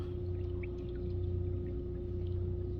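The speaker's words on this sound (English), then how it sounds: "by the way, I've used the bilge pump" Bilge pump runs aboard a leaking small boat on a lake, a steady low motor hum with a strong constant tone and faint watery gurgles, loud and continuous.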